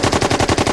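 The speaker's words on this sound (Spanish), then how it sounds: "La cátedra retumbó con una andanada de disparos." A rapid volley of gunshots rings out inside a cathedral, about eight sharp, evenly spaced bursts in under a second, loud and close with no voices.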